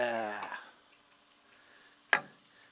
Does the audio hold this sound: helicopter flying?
no